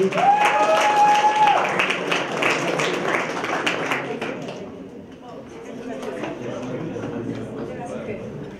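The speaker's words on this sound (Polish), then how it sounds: "Słuchajcie, ale jakieś wielkie, wielkie brawa dla niej." Audience clapping for a performer at a school talent show, fairly loud and busy for the first few seconds, then thinning out as a voice speaks over the tail.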